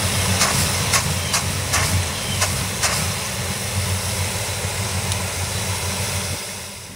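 Small block Chevy V8 fitted with an Edelbrock 1405 carburetor, in a Monte Carlo SS, idling with a steady low rumble and several short throttle blips that rise and fall quickly, recorded close with no talking.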